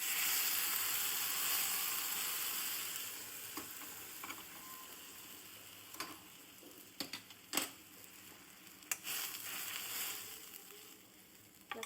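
Dal hitting a hot pan and sizzling steadily, with bursts of stirring and scraping clinks building toward the end, close and fairly quiet.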